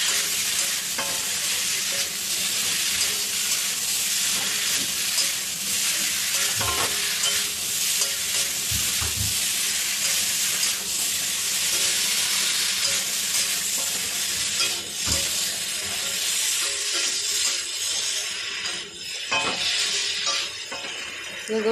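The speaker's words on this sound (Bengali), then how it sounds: "ফুলকপিগুলো দিয়ে আলুর সঙ্গে একটু কষিয়ে নেব হালকা করে" Pre-fried cauliflower and potatoes are sautéed in a pan for a fish curry, a loud continuous sizzle with frequent spatula scrapes and occasional metallic clinks against the pan, without speech.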